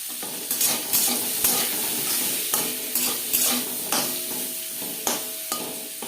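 Bitter gourd frying in a pan with turmeric and salt for a simple vegetarian chorchori, a steady close sizzle with repeated scraping stirs roughly every second or so, no voices.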